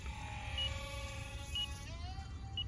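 An RC transmitter timer for an E-flite UMX Ultrix counts down with three short, faint beeps about a second apart, over the steady whine of the small aircraft's motor.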